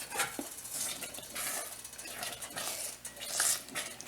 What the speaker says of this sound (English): when you go to stir it, can you hear that?